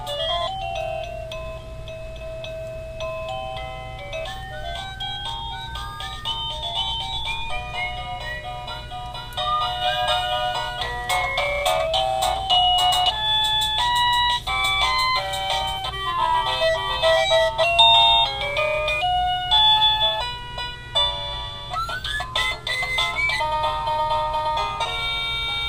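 A Smarthome wireless doorbell cycling through its chime tones: a long run of bright electronic melodies, one tune after another, some quieter and some louder, over a faint steady hum.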